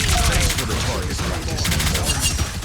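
Rapid, dense gunfire from the Punisher's turret and guns in the Marvel Rivals shooter game crackles continuously and loudly, with overlapping bursts filling the whole span.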